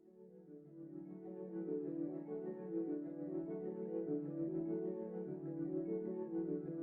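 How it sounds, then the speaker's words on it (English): A quiet, plucky arpeggiating synth, doubled in two layered parts, ripples in a continuous fast pattern of repeating notes, steady and alone, from a cover. "Now we can talk about the arpeggiating synth."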